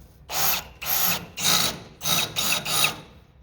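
A power drill with a 1/8 inch pilot bit whines through rusty metal in five or six short, loud, close bursts separated by brief pauses.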